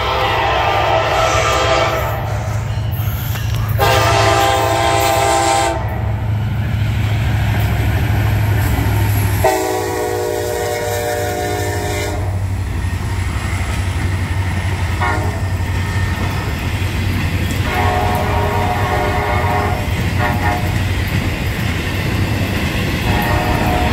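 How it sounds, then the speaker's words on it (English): A Norfolk Southern freight train led by NS 1001 rolls past close by with a constant heavy rumble, its horn blaring in several long blasts over the rolling wheels and cars. "I heard the horn of NS 1001"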